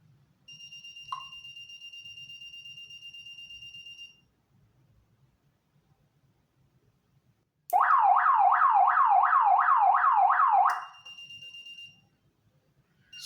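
Treacon home security system siren wailing loudly for about three seconds in a rapid rising sweep, with a steady electronic beeping tone before and after it and faint low rumble in the background.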